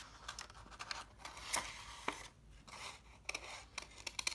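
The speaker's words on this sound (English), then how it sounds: "turning my scissors when I need to turn" Scissors cut paper for a positive/negative space hand collage, with quiet irregular snips and crisp shearing crunches, close to the microphone amid soft paper rustling.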